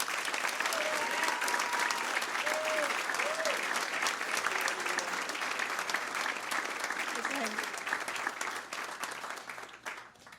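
An audience in Hermosa Beach applauds the 2019 Woman of the Year, a loud, sustained crowd clapping with scattered cheers and voices underneath, tapering off at the very end.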